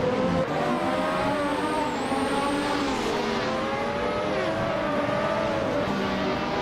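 A Williams FW12 racing car in a video game at Tsukuba Short, its engine whining in a continuous high drone that rises and falls with gear changes, loud and steady throughout.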